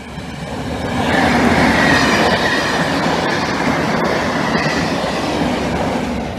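The 1Q50 Derby to Doncaster rail service rushes past as a loud, steady rumble that builds within the first second and holds to the end.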